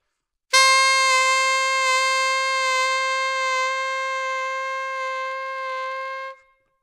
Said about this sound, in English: When you first start working on vibrato, it's probably going to be pretty slow to start.